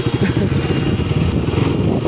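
A motorcycle rides along a rough trail, its mid-pitched engine droning steadily with a bumpy, pulsing texture, loud and close with no talking.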